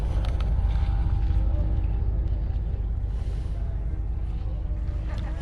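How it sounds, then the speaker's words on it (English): A boat's engine heading out from the coast, heard as a steady, distant low rumble mixed with wind noise, running continuously without pauses. "Another boat going out there again. You can hear the engine in the distance."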